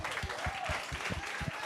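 An audience applauds a magician at a live show, giving quiet, distant clapping with a loose, uneven rhythm of hand claps all the way through.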